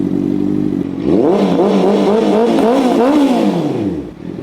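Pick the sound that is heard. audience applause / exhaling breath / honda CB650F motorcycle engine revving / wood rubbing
honda CB650F motorcycle engine revving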